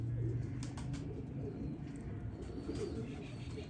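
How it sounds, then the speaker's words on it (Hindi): Soft, low pigeon coos repeat close by over a steady background murmur, with faint chirps and rustles scattered through. "ये छत वाला कबूतर है जी"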